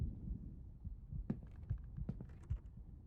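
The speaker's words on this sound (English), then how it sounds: "Hear the heartbeat." Heartbeat effect in a ghost-hunting video game, soft low thumps pulsing at a steady rhythm beneath faint background hum, with a few light clicks.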